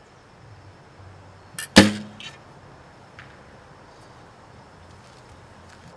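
A single sharp Olympic recurve bow release: a quick twang and thump of the arrow leaving, followed by a faint distant impact in a quiet setting.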